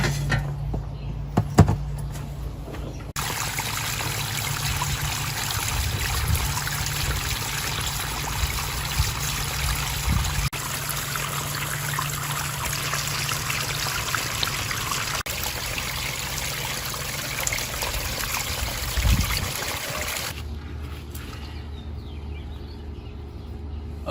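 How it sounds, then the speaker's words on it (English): Water trickles down a newly built backyard pond waterfall in a test run, a steady close splashing flow that holds for about twenty seconds before cutting off, with a few faint knocks. "we're gonna see how the waterfall is"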